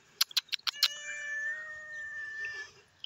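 A cat meows several times in quick succession, followed by a longer drawn-out caterwauling cry, close and fairly clear against a quiet outdoor background on Maui.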